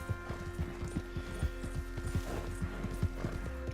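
Horse in Red Dead Redemption 2 moving over rocky ground, heard as a rapid, rhythmic clip-clop of hooves striking stone, close and clear, over a low steady rumble, with no speech.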